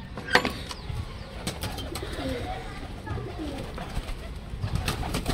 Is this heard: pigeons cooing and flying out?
yes